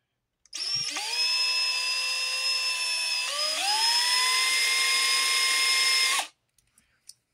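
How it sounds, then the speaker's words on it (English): A power drill runs loud and close, drilling from the back of a piece, a sustained high whine that shifts pitch once partway through before cutting off, followed by a few small clicks. "We're going to drill that from the backside and."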